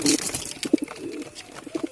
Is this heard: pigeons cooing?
yes